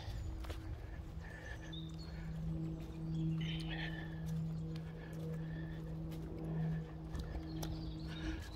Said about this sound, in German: Das Pferdchen muss wohl mal Wald grasen.